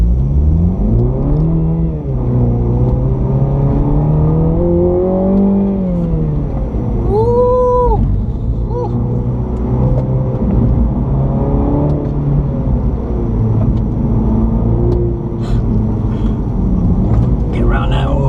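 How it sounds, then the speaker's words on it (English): A new Mini GP3 hot hatch laps a race track on a track day, its engine loud and close from inside the cabin, pitch climbing and dropping through gear changes and revs, with a voice speaking at times. "this is the first lap of the track day"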